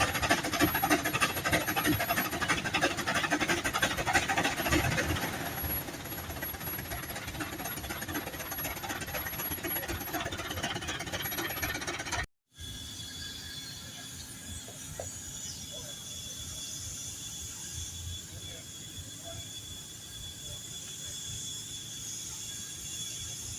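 An antique steam engine runs at a steam threshers reunion in western Minnesota, steady rhythmic mechanical chuffing and clatter at moderate level, then quieter machinery hum after a brief cut midway.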